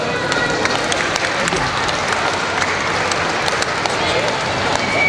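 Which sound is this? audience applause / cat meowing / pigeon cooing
audience applause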